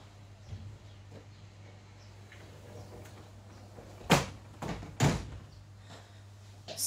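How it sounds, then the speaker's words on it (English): A room door shut indoors, with a couple of sharp knocks and a thud standing out over a steady low hum and faint room noise. "I'm just going to shut my door."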